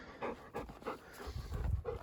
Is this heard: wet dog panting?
yes